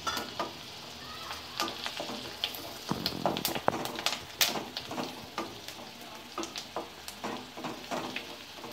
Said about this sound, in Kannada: ಚೆನ್ನಾಗಿ ಸ್ವಲ್ಪ ಫ್ರೈ ಮಾಡ್ಕೊಳ್ಬೇಕು